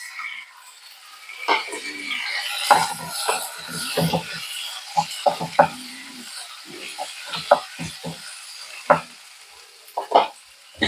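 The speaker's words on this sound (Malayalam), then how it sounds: "ഇനി അതിലേക്ക് തക്കാളി ഇട്ട് കൊടുക്കുകയാണ്" Chopped tomatoes fried with ginger and garlic in a pan for an egg curry, with clattering stirring and bursts of sizzle close by, busiest in irregular scrapes and knocks.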